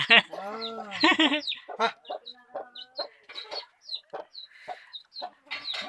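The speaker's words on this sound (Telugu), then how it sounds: "పెట్టలు ఎలా ఉంటాయి చూపిస్తాను నీకు" Country chickens on a forest farm cluck and call in a steady series of short bursts close by, with a person talking over the start.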